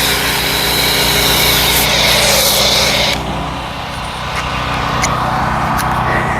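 A Ryobi electric pressure washer rated around 1.2 GPM whines loudly and steadily up close while washing a car with foam, its spray hiss dropping briefly in the middle before resuming.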